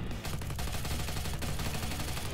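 Dense, continuous gunfire aimed at a zombie boss in a Roblox zombie game, a loud unbroken stream of rapid shots with no pauses.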